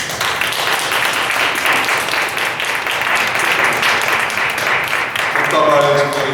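An audience claps steadily through a church ordination service welcoming a newly ordained pastor. The applause is a dense, even patter that holds the whole time, with a voice emerging faintly near the end.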